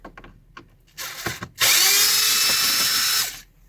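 A power driver fitted with a T20 security bit whirs loudly and steadily, removing screws from a blend door actuator in a Ram 3500 truck dashboard, after a brief lower buzz and a couple of short clicks.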